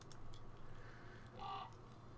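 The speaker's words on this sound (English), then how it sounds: "The elf girl strokes the crow's beak. Its eyes narrow in satisfaction, and it makes a cooing sound." A crow in the video game Pathfinder: Wrath of the Righteous gives one soft, brief coo midway through, quiet against a low, steady background hum.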